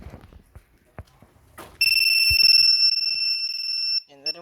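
A two-way alarm on a Suzuki Raider 150 motorcycle goes off when triggered by remote, giving a loud, steady electronic tone that lasts about two seconds. It comes after a few soft clicks and is followed by a short chirp.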